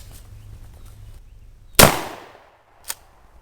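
A single loud, close shotgun blast from a Tactical Steven shotgun at an outdoor target range, with a sharp crack and a decaying tail, followed by a fainter distant pop about a second later.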